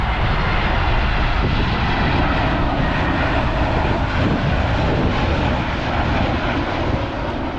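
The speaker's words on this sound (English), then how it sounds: "Yes, A320. Spirit Airlines. Dang, he's flying in." A Spirit Airlines Airbus A320 jet flies in fast at full speed, its engines producing a loud, steady roar that fills the air without pause, with no talking over it.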